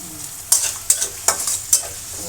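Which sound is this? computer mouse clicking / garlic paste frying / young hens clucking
garlic paste frying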